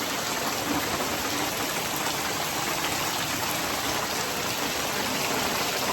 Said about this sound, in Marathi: जोरात पावसाला सुरुवात झाली आहे